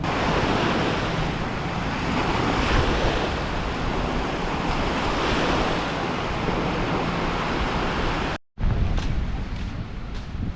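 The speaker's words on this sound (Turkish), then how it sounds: "Okyanus bugün biraz dalgalı." Ocean waves surge and break steadily at Miami Beach, a continuous loud wash of surf with wind buffeting the microphone, cutting out briefly near the end before the roar resumes.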